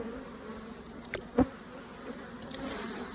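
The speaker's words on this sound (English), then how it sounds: "Hopefully the bees are going to go down in there with their mom." A swarm of Africanized honey bees gives a low, steady buzzing hum close by, broken by a couple of brief louder bursts as individual bees pass near.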